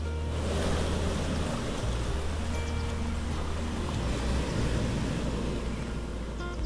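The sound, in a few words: sea waves roaring on Ambolgad beach, Konkan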